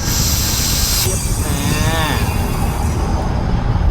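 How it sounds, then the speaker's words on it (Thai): Compressed air blown through the air-conditioning system of a Toyota Commuter van, a loud sustained hiss and rush with a sharp change partway through, fluttering underneath. "นี่เราปล่อยลมเข้าไปครับ"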